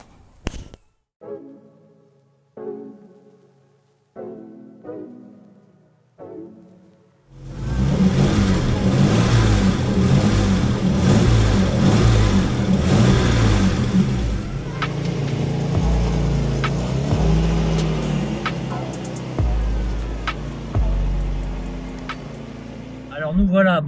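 An Opel Monza GSE engine cranks several times, then catches and revs hard, accelerating with a sustained roar that shifts as gears change; voices talk over it.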